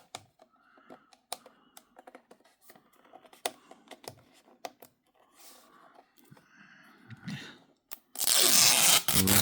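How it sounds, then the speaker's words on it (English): Protective plastic film being peeled off a Frizzlife LP365 smart water monitor, heard as close, scattered crackles and tearing rustles ending in a loud, dense burst of crinkling. "There's a film protector on it. As you can see, it's got to peel it off."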